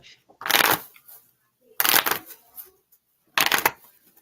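Three separate bursts of tarot cards being shuffled, each a brisk, close riffling flutter lasting about half a second, with quiet pauses and faint murmured talk between them.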